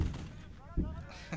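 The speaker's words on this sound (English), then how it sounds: "Give them a love tap! Get the BAR up here!" Brief gunfire from a BAR automatic rifle in the Burden of Command war game: a couple of short, dull thumps against a low background murmur, with a voice faintly present.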